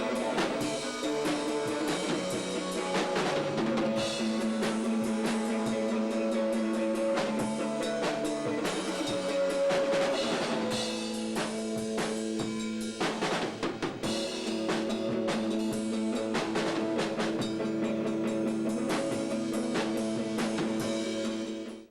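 Loud, dense rock music from a band at a university spring concert, distorted guitars, bass and drums playing continuously, a brief drop in intensity midway before the band kicks back in.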